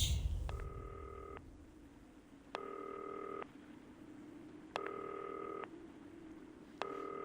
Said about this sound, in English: Oh, I guess I better answer the phone.